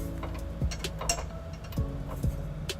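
A ratchet wrench tightens M12 bolts on a trailer hitch bracket under a 2014 Toyota Prius Plug-In, giving soft repeated clicks with a few sharper metallic ticks. Nearby and fairly quiet, with no talking.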